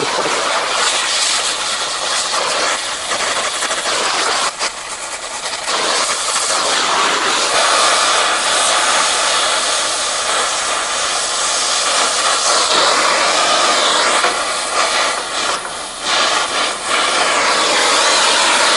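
A torch roars with a loud, steady broadband hiss while heating metal for a dirt bike kickstand, running close and continuous with slight surges and dips.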